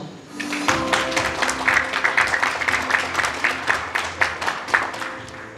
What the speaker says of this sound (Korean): 배용석 과장님을 여러분 박수로 환영해 주십시오